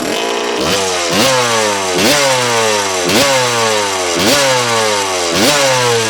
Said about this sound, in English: I just love that sound. Guys, this is the bike that changed the course of motocross forever